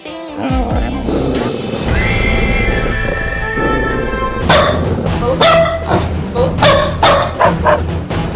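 A dog barks and yips in the Scary Teacher video game at school, loud sharp repeated barks over game music and effects, with a burst of rapid barks near the end.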